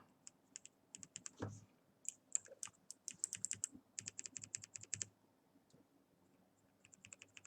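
Mechanical keyboard switches on a KBDFans SuperSwitchTester are pressed in quick, uneven bursts. The sharp, close clicks and clacks come in clusters with short pauses, then fade to a few isolated presses.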